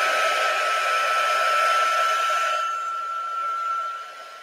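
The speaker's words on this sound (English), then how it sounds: "first time ever saying heat gun. It's not very loud." A heat gun blows hot air over a craft project, a steady whooshing hiss with a faint whine that holds evenly, then drops away and cuts off near the end.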